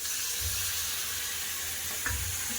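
Ground spice paste and water go into a hot pan of vegetable curry, bringing a constant hiss of sizzling oil with a couple of brief louder splashes and bursts as the liquid hits.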